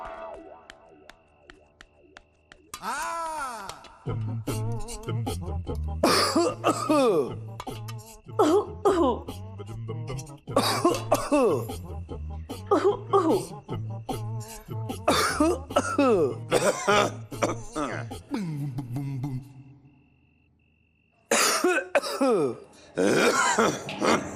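A person coughs repeatedly and harshly for a long stretch, with throat-clearing and strained grunts between the loud, close fits.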